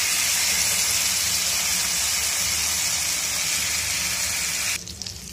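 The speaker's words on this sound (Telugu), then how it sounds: "మన దోస బ్యాటర్ రెడీగా ఉంది కదా ఇప్పుడు ఆ ప్యాన్ లో వేసుకోవాలి" Dosa batter sizzling on a hot pan greased with butter, a loud, steady hiss that holds for several seconds before cutting off sharply near the end.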